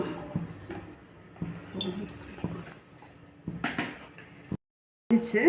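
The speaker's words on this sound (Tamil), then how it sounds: "பொறிக்க தேவையான அளவுக்கு எண்ணெய் ஊற்றிக்கலாம்" Cooking oil poured into a pan on a stove in a home kitchen before frying Egg 65, heard as soft liquid trickling and splashing with faint clatter, fairly quiet, with a brief cutout near the end.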